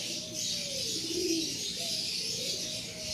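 A pigeon coos softly nearby, a couple of low rolling calls over a steady background hiss, with no talking.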